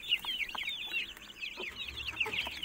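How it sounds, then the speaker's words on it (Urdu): Dense, continuous high-pitched peeping from a group of three- to four-day-old Khalis breed chicks, close by, with many overlapping cheeps and no voices. "یہ تقریباً 3-4 روز کے چوزے ہیں بھائی۔"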